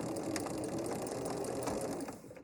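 A sewing machine runs steadily, stitching a seam on a flower for a table runner, its fast rhythmic mechanical chatter loud and close before easing off at the end.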